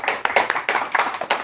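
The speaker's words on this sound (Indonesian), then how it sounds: "Baru tepuk tangan ya." An audience clapping in a short, uneven burst of hand claps, several close slaps in quick succession with brief gaps, moderately loud and without speech.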